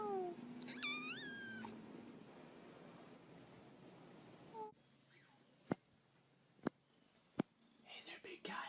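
A cat gives a few meows at the start over soft background hiss. After that come three sharp isolated clicks and faint rustling. No clear speech.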